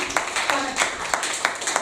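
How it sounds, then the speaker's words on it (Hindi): Rhythmic clapping welcomes poets at a Hindi poetry gathering, sharp claps falling in a steady, evenly spaced beat, moderately soft and heard fairly close. "तो तालियों से सबका स्वागत करते हैं"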